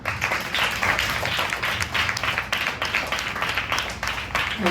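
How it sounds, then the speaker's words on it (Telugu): A group of children at a Sunday school gathering claps hands in a steady, continuous patter, with voices mixed faintly into the applause. "చప్పట్లు కొట్టండి"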